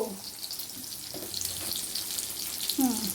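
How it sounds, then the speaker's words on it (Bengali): Two dried red chillies fry in hot oil, a soft continuous sizzle and crackle with faint clinks, close and moderately loud, with no speech over it. "এই ভাজবো, ভেজে সেই খাওয়া।"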